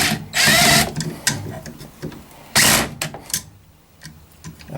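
A power drill tightens the bolts on a furnace blower motor in a Coleman DGAT furnace, two loud whirring bursts with clicks and clatter between them, up close and without speech.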